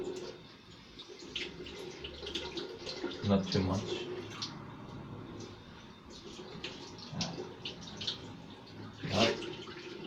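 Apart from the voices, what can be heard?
running water from a tap in an apartment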